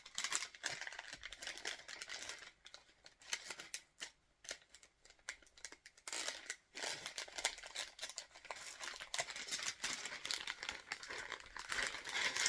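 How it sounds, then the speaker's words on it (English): Sheets of 14 count perforated paper crinkle and rustle as they are handled, faint, close and irregular, in bursts with brief pauses, with no talking. "That's a 14 count perforated paper"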